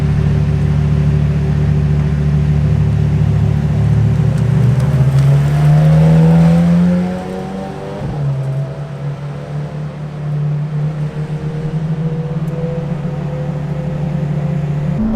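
A 2018 McLaren Senna engine running in race mode: a loud, steady idle drone whose revs climb, then drop sharply, then settle into a lower, even hum, heard up close and alone.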